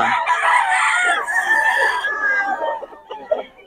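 A Raptor Sweater gamecock rooster crows loudly and close by in a long drawn-out call, followed by a few short clucks and farmyard noises.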